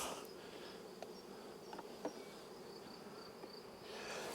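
Spring honeybees buzz in a steady, faint drone at the front of a hive, with a few soft taps and knocks scattered through it and no talking.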